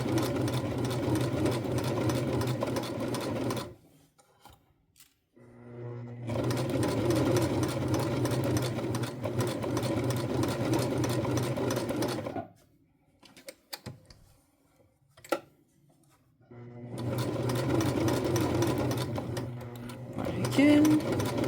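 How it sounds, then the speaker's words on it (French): A sewing machine stitches a zip pouch in three long, steady whirring runs, separated by quiet pauses with small handling clicks. "je vais pouvoir continuer ma couture à la machine"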